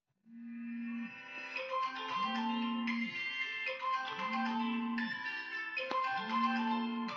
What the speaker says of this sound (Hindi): ऐसे टाइम पर फ़ोन बज रहा है